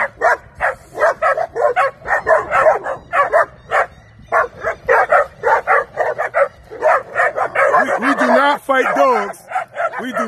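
An American bulldog barks close and loud in rapid, repeated bursts, with whimpering, yipping and other dogs joining in. The barking goes on almost without pause, and a person's voice can be heard now and then.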